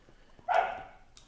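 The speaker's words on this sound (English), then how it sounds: "and my dogs are barking. They always play fight and then they bark." One short, fairly loud bark from a dog during play fighting, close by, followed by a faint trailing sound.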